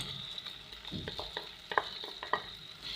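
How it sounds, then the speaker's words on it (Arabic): Peas and carrots are stirred into sizzling spiced minced meat in a pan, with a soft steady fry beneath repeated scraping and clinking of a spoon against the pot. "واشوحها برضو هي كمان معاه باللحمه كده شويه"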